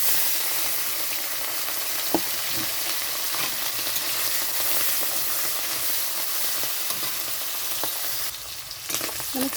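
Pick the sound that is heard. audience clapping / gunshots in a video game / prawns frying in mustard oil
prawns frying in mustard oil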